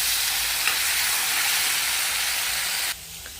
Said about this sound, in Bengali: এই যে ফুটা কলা ভাজা হচ্ছে।